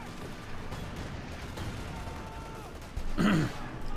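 Bazooka fire in a WWII strategy video game: a muffled burst of a launched shot near the end, over a low rumbling battle background.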